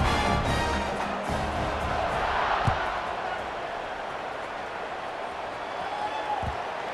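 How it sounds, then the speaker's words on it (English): Stadium crowd in the EA Sports College Football 26 video game keeps up a steady, broad roar throughout, with a couple of brief thumps and no speech on top. "this crowd is buzzing after that last score"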